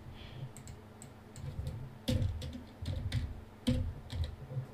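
Quick, light key clicks come from a computer keyboard while text is entered in the America's Army mission editor, with irregular bursts of taps at close range.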